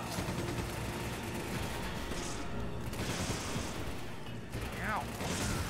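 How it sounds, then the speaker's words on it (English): Resident Evil 5 gunshots crack repeatedly amid a busy, dense game soundscape, with short bursts spread across the clip and a brief lull near the end. "I just shot this guy in the face"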